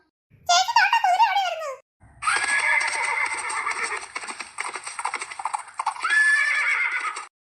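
A horse whinnies loudly and close for about a second, then after a brief gap neighs again at length with hooves clopping beneath, a final whinny rising near the end.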